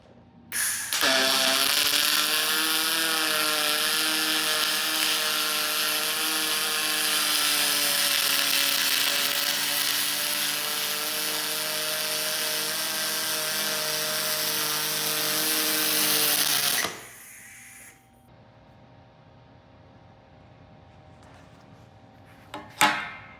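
Spool gun MIG welding of a small coupon run vertical up, wire fed at 575 inches a minute: a loud, steady, buzzing arc crackle lasting about fifteen seconds, then cutting off to near silence.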